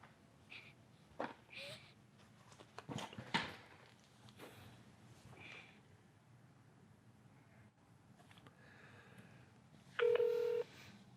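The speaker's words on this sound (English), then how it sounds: "Now let me pick up the phone, I'm gonna walk around a few steps and try to dial again." A phone being dialed during a call-center test, with a short burst of touch-tone beeps near the end after scattered handling clicks and quiet speech.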